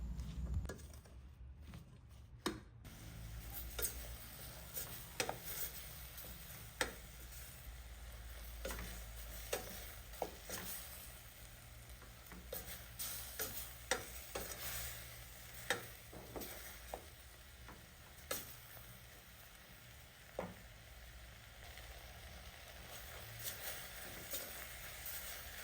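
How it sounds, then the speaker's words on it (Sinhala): Leeks in oil cook in a pan on a stove, giving a soft steady sizzle with scattered light ticks and crackles, close and fairly quiet. "අපි දැන් මේක ලිපෙන් තියලා ටික වෙලාවක් උයා ගන්නවා"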